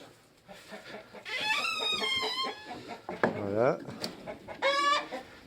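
Hens in a farm coop cluck and squawk in repeated bursts close by, with someone speaking briefly between the calls.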